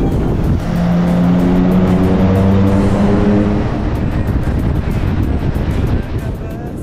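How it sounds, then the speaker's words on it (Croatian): Motorcycles run at full throttle through road tunnels, a loud continuous engine roar with steady tonal drones that rise and fade, heavy wind rush throughout and no talk. "vozimo motore u punom gasu. Sve je u ritmu, motori se čuju kao orkestar."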